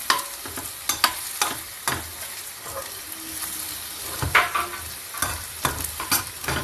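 Potatoes frying and being stirred in a pan in a home kitchen, with a steady sizzle broken by repeated scraping, clattering strokes of the spoon against the pan, close and fairly loud.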